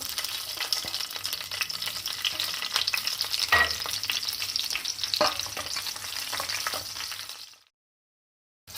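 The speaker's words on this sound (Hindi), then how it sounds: "अब इसमें 10 हम हरी मिर्चें शामिल कर देंगे।" Green chillies fry in hot oil in a pan for a potato curry, giving a close, dense sizzle with occasional stirring scrapes before the sound cuts off abruptly near the end.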